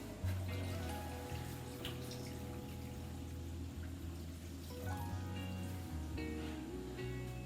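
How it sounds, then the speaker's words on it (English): Water poured into a pot of pasta fagioli on the stove, a steady, continuous splashing stream that runs for several seconds without pause, close and moderately loud. "And then I'm going to add my water."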